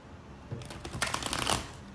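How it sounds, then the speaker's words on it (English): Tarot cards shuffled by hand make a quick burst of riffling and flicking, close and crisp, lasting about a second and a half after a short quiet start. "So let's get some tarot and go a little deeper."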